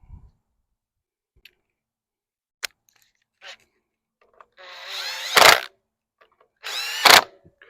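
A power drill drives plastic screws on a Briggs & Stratton E-Series engine of a TroyBilt TB200 mower, with two short close whirring bursts after scattered small clicks and handling taps.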